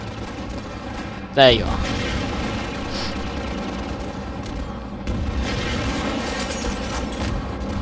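Gunfire in Half-Life 2 rings out in one loud report near the start, followed by ongoing game noise and someone speaking briefly.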